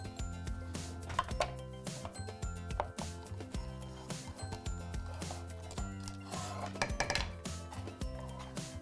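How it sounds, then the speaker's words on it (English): Sharp snipping and clinking sounds of scissors cutting rubbery bean curd strips repeat at an irregular pace against kitchen clatter, close and fairly quiet, with no talking. "I'm just going to cut them with scissors into more bite-sized pieces"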